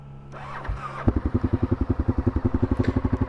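A Honda Superhawk 996 (VTR1000F) V-twin motorcycle cranks over briefly, fires up and settles into a loud, close, lumpy idle with a rapid, even pulsing beat.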